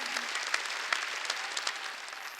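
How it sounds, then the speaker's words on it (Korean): A congregation at a Korean church's Wednesday worship service breaks into dense, steady applause, a continuous wash of many hands clapping at moderate distance with no voices over it. "박수 한번 쳐줘요"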